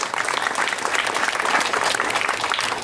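An audience claps for volunteers of a Ganesh festival group at a lecture event, a loud, dense, steady round of applause that carries on throughout with no voices over it.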